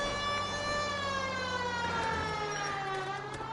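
A siren wails continuously in a video game, a loud steady wavering tone with layered harmonics filling the whole stretch without pause.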